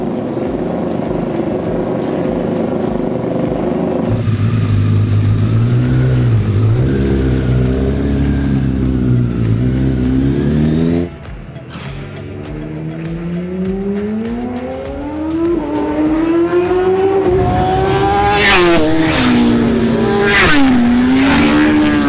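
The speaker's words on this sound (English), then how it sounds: "the sound of these marvelous motorbikes when they're on track" High-revving racing motorbike engines in the game RiMS Racing whine and shift through gears, pitch sweeping up and down as they pass, loud and continuous with no talking.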